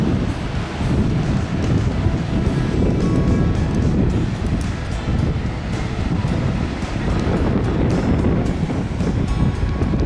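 Ocean surf breaking on a beach at Manzanita on the coast, a loud, continuous roar of waves mixed with heavy wind buffeting the microphone, with no voices.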